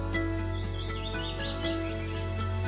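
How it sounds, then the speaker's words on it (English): Birds chirp in a faint, thin series of short tweets over a steady humming background, with no talk. "Did you hear the birds chirping?"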